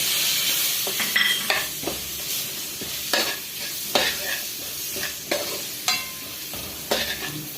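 Curry leaves and coriander powder sizzle in hot oil for a prawn fry while a spoon scrapes and stirs the pan in repeated strokes, with no voices over the frying.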